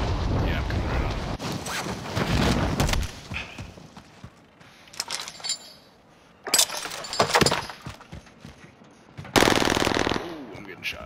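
Close, loud bursts of automatic gunfire from a Call of Duty: Modern Warfare match arrive in several rapid volleys separated by quieter gaps, with a player talking in between.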